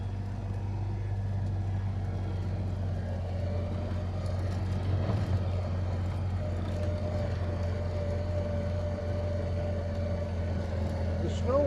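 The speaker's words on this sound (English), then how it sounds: "I'm in high gear trying to come up this little hill, and she's slowing right down, but still moving." Snow plow truck climbing a small hill in high gear on a winter road, its engine laboring with a steady low drone and slowing as it pulls, loud and close throughout with no talk.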